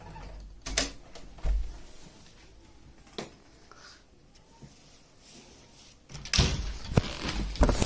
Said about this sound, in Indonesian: Kan buka pintu.